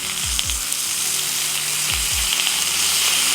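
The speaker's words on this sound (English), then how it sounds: "right before the fish is done, hit it up with some lemon juice right across it" Lemon juice hitting steelhead trout on a hot griddle top, a loud continuous close sizzle with a few low thumps, no talking.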